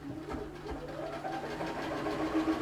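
A sewing machine stitches a straight seam down a piece of jeans, set to a short stitch length, producing a steady, continuous mechanical hum with a faint rhythmic whir, close and moderately loud with no talk.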